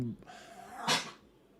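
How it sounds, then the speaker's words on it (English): A single short sneeze-like snort bursts out near the middle, close by, after a brief breathy sound at the start. "my dog just sneezed"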